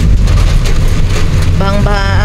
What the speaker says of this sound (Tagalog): ulan, malakas na ulan